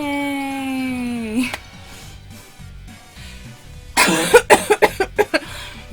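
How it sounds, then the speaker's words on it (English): A string of sharp, close coughs bursts out in quick succession near the end, following a sustained hummed tone at the start. "I just have this god-awful cough that I can't shake"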